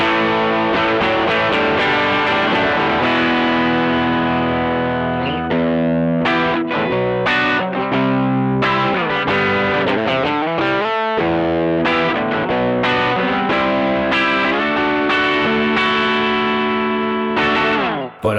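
Electric guitar played through a Mosky Mini Screamer overdrive pedal, a budget Tube Screamer-style unit, with a mid-heavy tone: loud, continuous distorted chords and riffs with brief pauses, played alone without talk.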